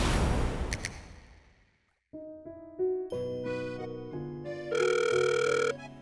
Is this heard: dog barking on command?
no